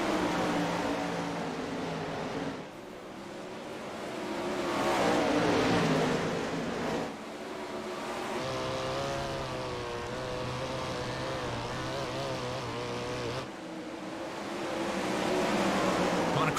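410 sprint cars in iRacing roar through a restart, with engines revving and accelerating in overlapping waves, loud and continuous, and gear changes marked by brief dips, while a commentator speaks over them.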